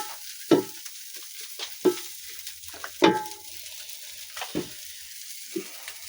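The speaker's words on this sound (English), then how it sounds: "You fry the sardines until they are golden fry." Sardines fry in a pan in a village kitchen, the quiet sizzle broken by several sharp scraping stirs of a utensil at uneven intervals, close and alone with no voices.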